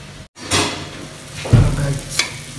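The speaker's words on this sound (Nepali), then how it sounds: "मसला हालेर फेरि एकछिन फ्राई गर्ने मसलाले" Masala spices frying in a hot pan, a sizzle broken by a brief silent gap early on, then stirring scrapes and bursts of crackling swelling midway and again near the end, with no voices.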